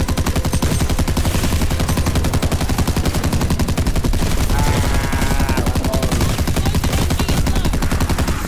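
A KG M40 rifle fires in a video game free-for-all match, a loud, steady stream of rapid shots running without pause throughout.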